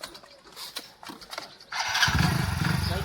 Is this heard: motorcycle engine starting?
yes